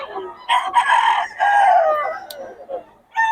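A Filipino gamefowl stag, a young rooster, crows loudly and close by in one drawn-out call with a few shorter vocal bursts around it.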